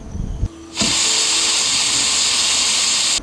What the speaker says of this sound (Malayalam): 8 പ്രാവശ്യം വിസിലടിച്ചിട്ടുണ്ട്